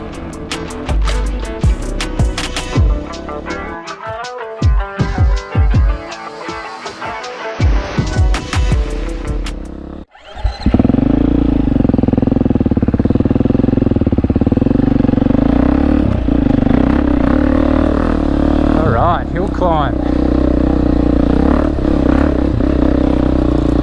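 A dirt bike engine revs and labours up a rutted hill climb, close and loud, with clattering and scraping from the ground in the first half, then a steady, sustained engine drone after a brief cut.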